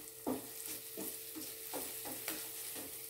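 Aromatics, onion among them, sautéing in a pan for spicy escargot in coconut milk: a steady soft sizzle broken by several rhythmic scrapes of a utensil stirring, fairly close and moderately quiet, with no voices.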